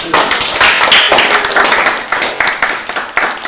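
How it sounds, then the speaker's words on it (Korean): A church congregation at a Sunday service and baptism claps for a newly baptized brother, a close, loud burst of many hands beating irregularly that thins out toward the end. "오늘 세례받은 우리 성령대 형제를 위해 한 번 더 박수"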